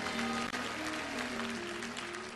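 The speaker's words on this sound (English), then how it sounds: "give the Lord a clap and a shout like you believe he's good" A church congregation clapping and shouting for the Lord, with dense sustained applause, cheers and a sung or held vocal tone throughout, close and loud.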